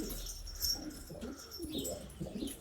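Pigeons coo softly and repeatedly at a loft just before being released, low murmuring calls with a few faint chirps, no talking.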